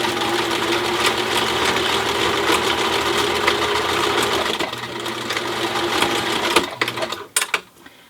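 A sewing machine stitches elastic onto a cloth protective face mask, a steady close whirring hum of needle strokes that runs unbroken, then slows into a few short stops and starts at the end.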